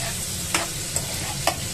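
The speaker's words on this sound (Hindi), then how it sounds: "कर लूंगी मिक्स और हल्का सा इसे भी मैं करूंगी सॉफ्ट" Tomatoes for chutney are stirred in a hot pan, a soft sizzle running throughout with three quick spoon scrapes, close and without speech.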